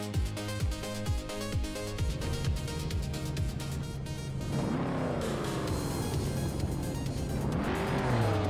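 Vintage and modern race cars, including a 1953 Fiat 850 Supersonic, launch off the grid at Jerez GP in a racing video game, engines revving hard and tires squealing in a loud, continuous mechanical roar with shifting pitch sweeps.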